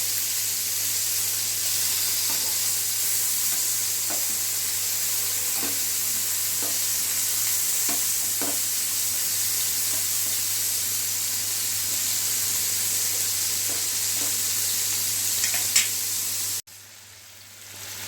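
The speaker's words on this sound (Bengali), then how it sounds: "দেখুন এইরকম সুন্দর ব্রাউন করে কিন্তু এটাকে ফ্রাই করে নিতে হবে।" Chicken malai kababs frying and browning in a pan, a steady hissing sizzle with occasional faint ticks and pops, close and continuous before cutting off abruptly near the end.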